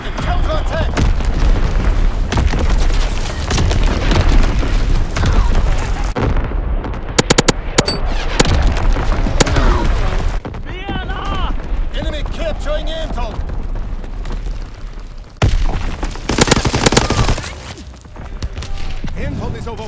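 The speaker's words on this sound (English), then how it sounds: "Incoming enemy artillery, get to cover!" Heavy enemy artillery explosions and bursts of gunfire in Call of Duty: WWII, loud, dense booms and rapid shots overlapping for the whole stretch, with in-game voice callouts breaking through between blasts.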